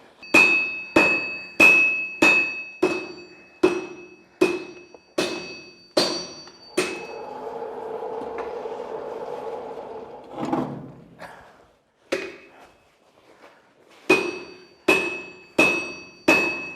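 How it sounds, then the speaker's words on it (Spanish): Two heavy hammers forge steel for an axe on a century-old anvil in a steady alternating rhythm, pause for a stretch of rumbling workshop noise, then resume with sharp, bright metallic blows. "Ahora este es el momento en que los dos martillos de José y Carlos van a hacer estirar el acero 10 centímetros."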